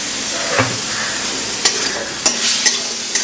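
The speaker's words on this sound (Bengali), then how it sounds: "মশলাটা একটু কম আগুনে কম তাপে একটু ভেজে নেবো" Curry spices for a rohu fish kalia fry in oil over low heat, a continuous close sizzle punctuated by a few crisp spoon scrapes and clicks.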